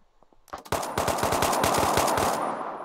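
Rapid machine gun fire in a blocky Minecraft-style shooter on a moonbase, a few faint early shots then a sustained fast burst of evenly spaced loud rounds lasting over two seconds before trailing off.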